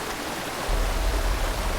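A waterfall in a video game roars as a steady, dense wash of rushing water, growing slightly heavier and deeper partway through, with no voices.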